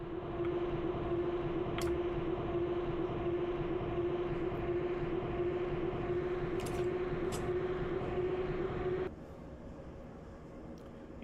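Dingy Russian metro train rumbling in the game Metro Simulator 2: a steady, loud drone with a constant whining hum, broken by brief clanks, then the roar drops to a quieter level near the end.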